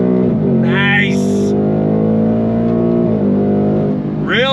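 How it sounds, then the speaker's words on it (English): A 2024 Ford Mustang GT V8 accelerates hard under paddle shifting, a loud, steady engine drone in the cabin with rising pitch sweeps as gears change and a faint exhaust burble, with a voice talking over it. "Really just fires those shifts off. Boom, boom, boom. You got a little bit of a burble coming from that exhaust."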